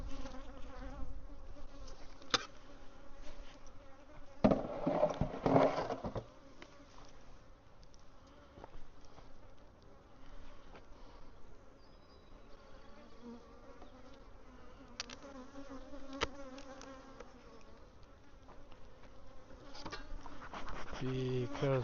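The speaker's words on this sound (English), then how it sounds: "Because there's a lot of bees in there." Honeybees swarm from an open hive during a spring swarm check, a dense steady buzz lasting throughout, with brief louder bursts of handling noise mixed in.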